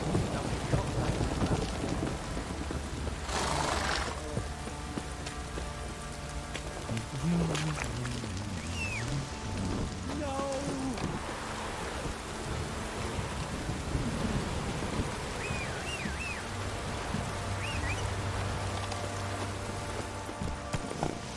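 Steady rain patters under rolling thunder in The Witcher 3: Wild Hunt while voices talk intermittently and a horse's hooves clop faintly, with brief bursts of game sound effects.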